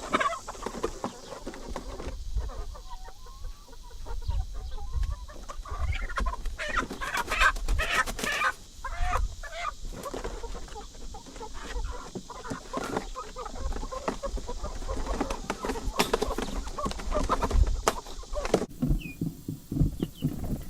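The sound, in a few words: chickens clucking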